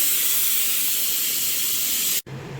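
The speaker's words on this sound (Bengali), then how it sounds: "এদিকে বসিয়েছি মটরটা, সিটি হচ্ছে" Pressure cooker whistling while peas cook, a loud, steady steam hiss that holds for about two seconds and then cuts off abruptly.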